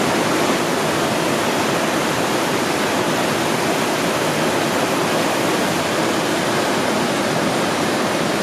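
Rushing water at Huka Falls in New Zealand, a loud, dense, unbroken roar of churning current heard up close for the full stretch, with no voices.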